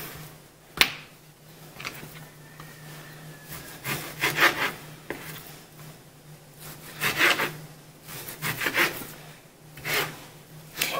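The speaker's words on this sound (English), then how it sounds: "Make sure your roast is a little bit frozen when you cut them" A knife slicing through a partly frozen bottom round roast into strips, with repeated close, crisp cutting strokes and scraping against a board in irregular bursts.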